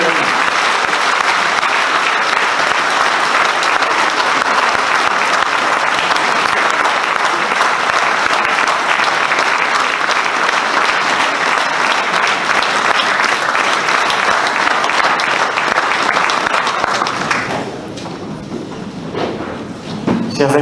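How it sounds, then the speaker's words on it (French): Loud, sustained crowd applause at a political rally in San Giulianu, continuous dense clapping that fills the space for about seventeen seconds before tapering off. "Je vous demande d'applaudir encore une fois."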